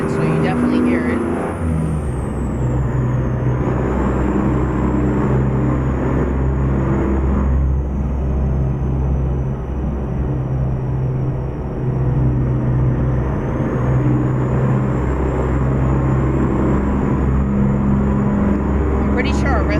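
A Freightliner truck with a custom Caterpillar engine in American Truck Simulator gives a continuous deep diesel drone and low rumble, steady and close throughout, with a faint high whine above it.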